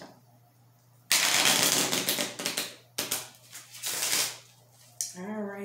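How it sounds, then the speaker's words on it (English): A deck of affirmation cards is shuffled close up in a few loud riffling bursts with brief pauses between them, and a short voiced sound comes near the end. "One more good shuffle."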